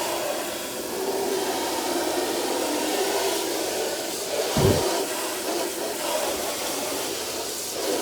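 Water sprays onto a car's painted surface in a steady broad hiss, close and continuous, with one brief thump partway through.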